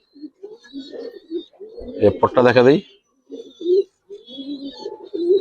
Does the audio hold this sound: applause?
no